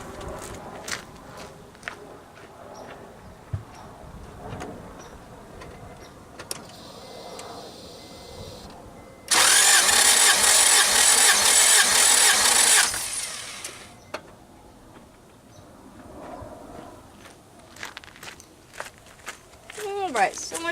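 An Acura Integra engine cranks over during a dry compression test, a loud, steady burst of about four seconds set between quieter stretches of clicks and handling noises.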